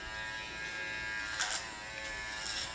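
A JRL 1040 hair clipper buzzes close while cutting hair, holding a steady electric drone with slight dips in pitch as it bogs down briefly against the hair.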